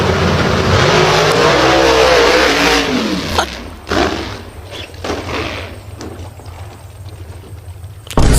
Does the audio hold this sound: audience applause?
no